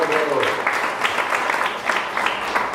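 Steady group applause, a dense patter of clapping hands that continues throughout with a voice faintly mixed in.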